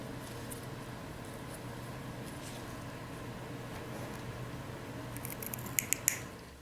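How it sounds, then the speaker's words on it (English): Scissors snip a cotton vape wick close to a coil: a few quick, sharp, close snips near the end, over a steady low background hiss. "all you have to do is take it and snip it close to the coil"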